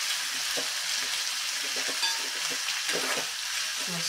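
Curry leaves, chopped green chillies and coriander crackle in a hot tempering pan for kanda poha, a dense constant sizzle with soft stirring scrapes scattered through it.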